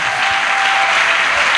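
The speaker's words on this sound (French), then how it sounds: "Acclamons d'abord cela pour Jésus." A church congregation claps steadily, a loud, even wash of applause that fills the whole moment with no pauses.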